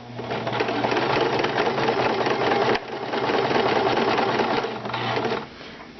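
A sewing machine stitches an appliqué onto a Halloween shirt, running steadily and loud at close range, with a brief pause near the middle and a softer stretch toward the end; no voices.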